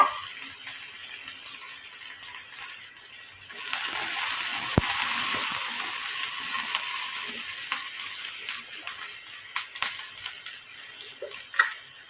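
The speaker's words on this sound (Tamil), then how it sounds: "கேப்சிகம் கட் பண்ணி வச்சுருக்கேன், இப்போ அதை சேர்த்து கொஞ்சம் எண்ணெயில் வதக்கி எடுத்துக்கோங்க" Chopped capsicum sautéing in hot oil in a pan, a steady broadband sizzle that swells louder partway through, with occasional sharp clicks of a spatula stirring, no voices.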